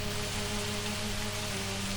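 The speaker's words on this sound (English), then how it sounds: "No, just a drizzle." Light drizzle in Agatha Christie: And Then There Were None, a 2005 PC game, heard as a steady, even hiss of rain with a faint low hum underneath and no voices.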